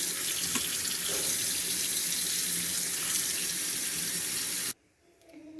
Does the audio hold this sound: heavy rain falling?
no